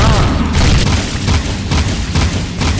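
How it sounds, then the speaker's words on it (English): Loud booming gunfire and blasts during a boss fight in Jak 2, rapid repeated heavy shots layered thickly with little pause between them. "Yeah, just keep shooting him."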